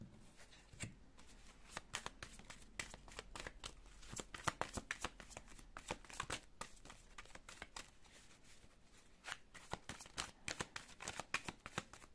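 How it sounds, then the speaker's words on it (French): Tarot cards being shuffled and drawn, a dense run of quick riffling flicks and soft slaps that goes on steadily throughout, close by and fairly quiet, with no talk. "Je vais tirer 8 cartes, si elles veulent sortir."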